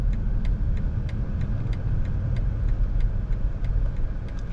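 A BMW 530e M Sport (G30 LCI) plug-in hybrid petrol car, 292 hp, accelerating from 0 to 100 in hybrid mode, heard as a steady, loud cabin rumble of engine and road noise with faint regular ticking.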